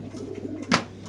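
A pigeon coos once, soft and close, among pigeons kept on a pigeon farm, with faint background murmur around the single brief call.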